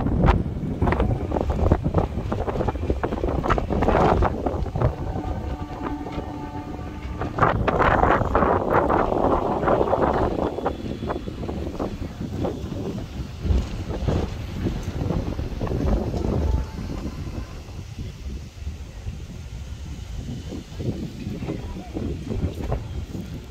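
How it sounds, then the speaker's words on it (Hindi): Strong wind at Namo Ghat, a riverside ghat, buffets the microphone in heavy low rumbling gusts, with someone talking throughout over the blustery noise. "घाट पर काफ़ी तेज़ हवा बह रही है।"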